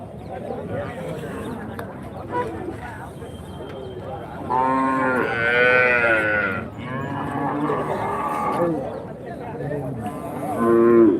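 Cattle, including HF and Jersey cows and calves, moo loudly and repeatedly in long, drawn-out calls at a livestock market, several animals overlapping amid a busy background murmur.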